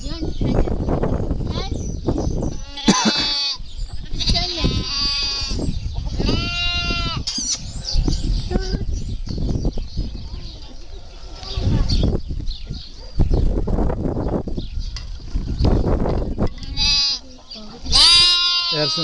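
Lambs and sheep on a farm in Turkey bleat repeatedly and loudly close by, overlapping calls in irregular bursts, with people talking in between and occasional bird chirps in the background.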